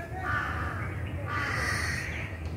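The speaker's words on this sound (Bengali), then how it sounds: "দারকাকের ডাক" A house crow caws repeatedly in the open grounds of an old zamindar palace, now a government college, with two loud, harsh calls rising over a steady outdoor background and no voices present.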